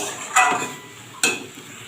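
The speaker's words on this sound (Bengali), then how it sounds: "এবার মশলাটাকে একটু অল্প করে কষাবো" Spice masala with paneer and potatoes being sautéed in a pan, two brief stirring scrapes over a low steady sizzle, close and fairly quiet.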